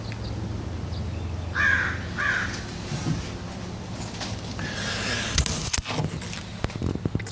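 Two sharp crow caws sound close together outdoors, followed by scattered crackling and scraping noises nearby.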